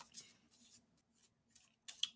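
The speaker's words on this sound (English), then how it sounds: "Let's shuffle these cards again." Playing cards are shuffled by hand, several quiet, crisp riffling bursts separated by short pauses, close and faint.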